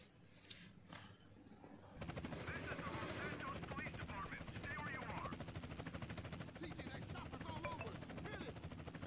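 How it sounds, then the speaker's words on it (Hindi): A helicopter in the video game GTA San Andreas thrums with a steady, dense rotor chop that starts abruptly and continues loud throughout, with gunfire and voices mixed underneath. "ओके, चॉपर आ चुका है"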